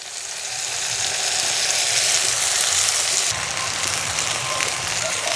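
Puffed rice powder, fried peanuts and vegetables stirred together in a hot pan, giving a steady, close sizzle and scraping that runs the whole time with no break.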